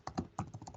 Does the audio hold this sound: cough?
no